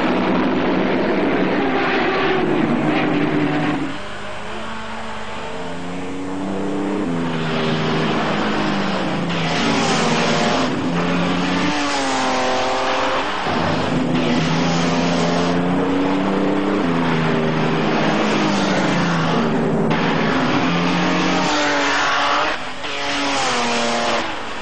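Grand Prix race cars from the 1937 Tripoli Grand Prix, Mercedes, Maserati and Alfa Romeo, howl past in a continuous loud roar, engine pitch rising and falling repeatedly as cars accelerate and pass by.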